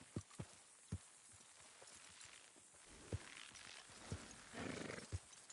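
Horses in the Red Dead Redemption 2 video game clip-clop with sharp, scattered hoof strikes and let out a loud whinny near the end, over a low outdoor background.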